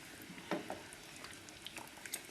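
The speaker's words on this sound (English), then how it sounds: "as soon as it comes to the first boil, I serve it immediately" Shrimp in lobster sauce reheating on a raised flame and coming to a first boil, a soft steady bubbling and sizzle with scattered small pops close by, no talking.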